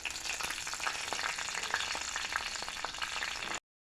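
Curry leaves hit hot coconut oil that already holds popped mustard seeds, giving a busy, crackling sizzle with scattered pops that runs steadily, then cuts off abruptly.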